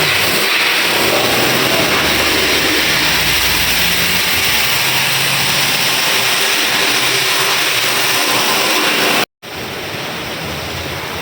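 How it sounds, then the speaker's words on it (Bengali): A Land Rover Prado's engine runs at a car service and wash station amid heavy traffic, a loud, steady broadband engine roar with constant wash-like noise, cut by one brief dropout near the end. "এই যে ল্যান্ড রোভার"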